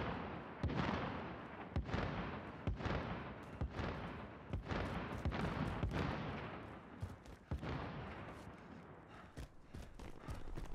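Rapid bursts of gunfire from the video game Warzone during a solo squads match, sharp repeated shots and impacts firing steadily across the whole stretch over a dense mix of game noise.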